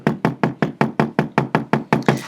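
Ball peen hammer tapping a metal jump ring against a rubber block, eleven crisp, evenly spaced knocks in a steady rhythm, close and alone.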